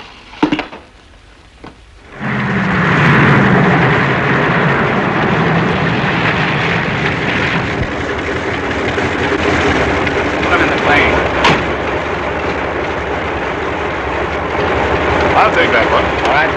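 A propeller airplane engine drones loudly and steadily once the aircraft is in flight, following about two seconds of quiet. The roar holds at a constant broad level with slight fluctuations and no speech.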